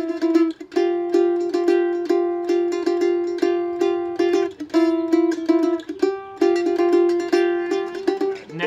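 Mandolin picking chord rhythms on a single string, a close, bright, steady stream of quick plucked notes in a repeating pattern, with the pitch shifting between chord tones, played alone without talk.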